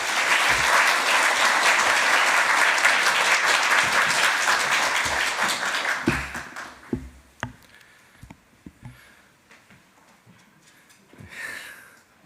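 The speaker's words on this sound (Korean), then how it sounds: "우리 장명규 목사님 박수로 한번 축복하겠습니다" Congregation applauding a visiting pastor during a year-end special dawn revival service at a Korean church in LA: dense, steady clapping for about six seconds, then fading to scattered claps and small noises.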